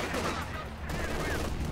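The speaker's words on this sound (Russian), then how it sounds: "А, пушки по пехоте стреляют." Field guns fire on infantry in a Company of Heroes 2 battle, a dense rumble of gunfire and distant blasts running steadily throughout at moderate level.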